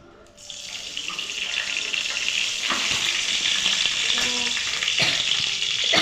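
Eggplant, long beans, potato and taro stalks frying in a pan, a loud, close, continuous sizzle with stirring scrapes and clatters over it, and no talk.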